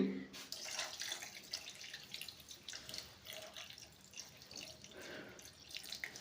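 Water poured from a glass into a pot of village-style country chicken curry, a steady splashing trickle with faint dripping, fairly close and unaccompanied by talk.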